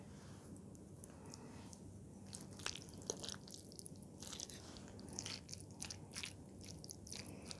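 Crunchy papad eaten alongside noodles close to the mic, with a series of sharp, irregular bites and crackles over quiet, wet chewing and no talking.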